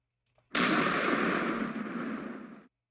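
A sustained burst of video game gunfire from a Nationalist Spain hex wargame crackles loud and dense for about two seconds, then cuts off abruptly.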